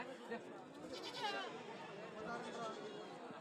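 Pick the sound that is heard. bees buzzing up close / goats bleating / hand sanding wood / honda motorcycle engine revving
goats bleating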